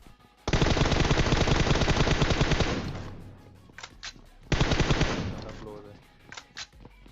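Automatic gunfire in PUBG Mobile, with two long sustained bursts of rapid shots, loud and close, separated by a brief pause and followed by scattered lighter pops.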